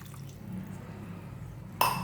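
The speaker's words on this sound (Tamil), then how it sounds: "இந்த மசாலாவை ஆட் பண்ண உடனே 2 கிளாஸ் தண்ணியை நம்ம இதில் ஆட் பண்ணிக்கலாம்." Water splashes into a pan of kuzhambu masala for murungai keerai (drumstick leaf) curry, with a faint quiet stretch broken by a sudden bright pour and splash near the end.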